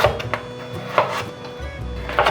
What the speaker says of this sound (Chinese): 把红萝卜切条。